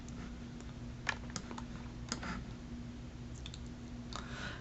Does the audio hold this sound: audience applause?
no